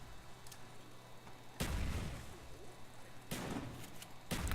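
A grenade explodes in a zombie video game, giving a sudden broad burst followed by more blast-like booms, moderately loud over a quiet gameplay background.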